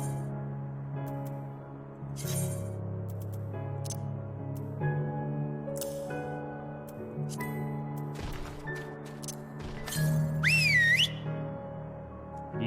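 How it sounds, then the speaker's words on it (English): A shrill whistle in Final Fantasy XIV rises and bends in a brief wavering tone near the end, standing over layered game music and scattered soft effects. "You hear nothing in reply to the shrill tone of the whistle."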